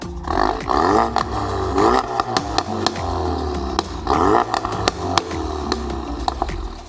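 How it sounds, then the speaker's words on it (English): Ford Focus RS with a full Mountune V3 exhaust system, heard from the rear, revs hard in two loud rising and falling bursts, with sharp pops and crackles between and after them. "this one then runs into a full Mountune V3 exhaust system. And from the rear, this also sounds fantastic. Give it a rev"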